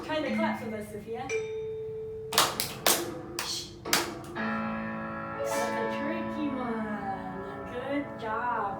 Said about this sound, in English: Try the claps with us